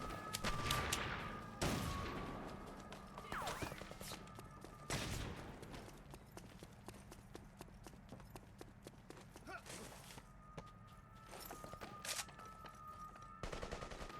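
Gunfire from a weapon in the video game The Saboteur, several sharp shots spaced irregularly over a steady in-game ambience, with a voice talking across much of it.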